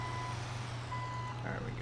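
A truck reversing in Grand Theft Auto V gives off a repeating high electronic beep, fairly faint and spaced out over steady engine hum.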